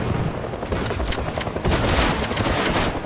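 Rapid gunfire shooting at zombies in the video game Project Zomboid, a dense run of close shots that grows louder in the second half, with no talking.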